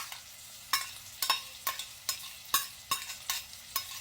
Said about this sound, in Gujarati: આ બધાને આપણે સરખું સોંતે થવા દઈશું